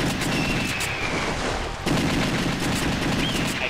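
Rapid, loud gunfire from the arcade shooter The House of the Dead 2, dense continuous bursts filling the whole stretch with a brief drop midway, no talking.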